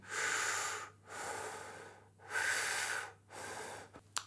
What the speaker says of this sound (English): relax everywhere up here, hand on solar plex and breathe in